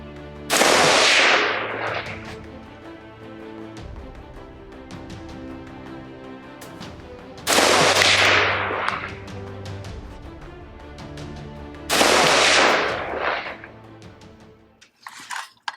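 Three loud, close bursts of rapid rifle fire from a Daniel Defense DDM4V11 Lightweight KeyMod AR-15, spaced several seconds apart, each with a sharp crack and decaying echo outdoors.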